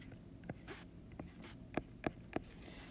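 Pen or marker strokes on paper or a board as parentheses are written for a geometry math lesson, with several short, faint, scratchy taps spaced irregularly and heard alone.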